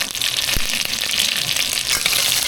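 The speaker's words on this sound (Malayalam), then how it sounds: "അതിലോട്ട് ഞാൻ 2 വറ്റൽമുളക്, 1 തണ്ട് കറിവേപ്പില, നമ്മുടെ വീട്ടിലുണ്ടായ കറിവേപ്പിലയാണ് ഞാൻ ഇടുന്നത്." Mustard seeds, fenugreek, two dried red chillies and a sprig of curry leaves frying in hot oil for sambar rice give a loud, steady, close crackling sizzle, with a few sharper pops and no voices.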